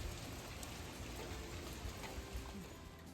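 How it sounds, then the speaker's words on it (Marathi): Steady morning rain falling throughout at a campsite in Tobermory, Canada, a dense hiss of drops on surfaces with no voices. "सकाळी सकाळी पाऊस चालू झालेला आहे"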